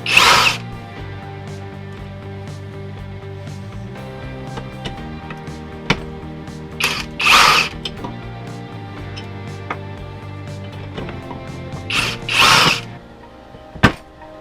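A power tool whirs in short bursts, removing bolts from a C4 transmission pump; loud whirring bursts near the start, in the middle and near the end, with quieter shop noise in between and no talking.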